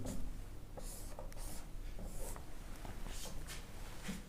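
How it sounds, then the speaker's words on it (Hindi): Pen writing out the word "single" by hand, a faint close scratching in short strokes and taps over a steady low background hum, with no speech. "तो यहां हम सिंगल अब लिखते हैं"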